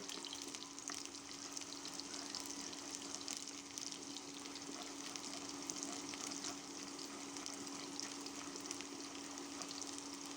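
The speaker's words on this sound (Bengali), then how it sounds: "এবার দিয়ে দিলাম পেঁয়াজ আর তেজপাতা পেঁয়াজটাকে একটু ভেজে নেব" Onion and bay leaf frying in hot oil for a jackfruit curry, giving a steady, close sizzle that runs evenly throughout with a faint background hum and no talking.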